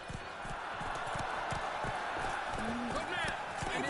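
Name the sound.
horse hooves clip-clopping in The Witcher III video game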